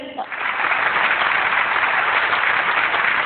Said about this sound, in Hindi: अच्छा, एक दफा फिर तालियां बजाइए।